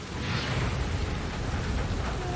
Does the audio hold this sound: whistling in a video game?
no